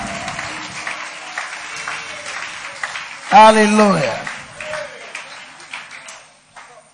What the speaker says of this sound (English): Give Jesus a clap and offering.